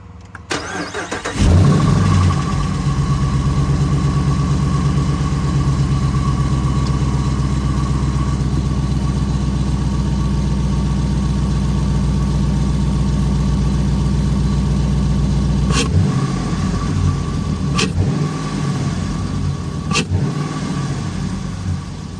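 A car fitted with an AFE Stage 2 cold air intake fires up and settles into a loud, steady idle, then gives three short sharp revs near the end, with no talking.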